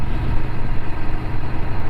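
A Kawasaki Naked Ninja motorcycle engine with its standard exhaust can, a loud, steady low rumble with a slightly pulsing idle texture, heard up close and continuously.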